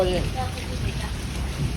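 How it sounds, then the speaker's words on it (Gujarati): Steady rain falling outdoors at a home in Gujarat, a broad even hiss at moderate level, with faint voices underneath. "વરસાદ જો"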